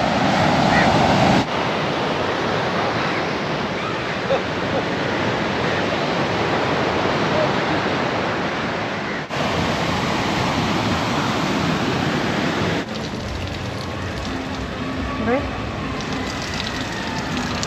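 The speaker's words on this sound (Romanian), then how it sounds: "Valuri mari." Large ocean waves roar in a steady, loud wash of surf on a Sri Lankan coast near Bentota, with gusts of wind buffeting the microphone and no clear speech.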